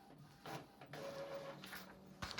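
Faint, close mechanical whirring and shuffling from an Epson WF-2910 printer making a copy, with a brief steady motor whine in the middle and a soft clunk near the end.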